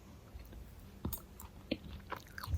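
Someone chews crunchy, dried-out cooked beans up close, with a few distinct soft crunches and bites scattered over quiet mouth noise.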